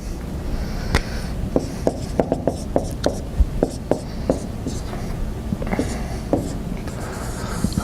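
A marker scratching out a football play on a board, a series of short squeaky taps and strokes in an uneven rhythm, close by, over a faint room hum.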